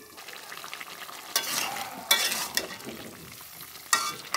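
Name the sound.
stirring new potatoes in a pan for alur dom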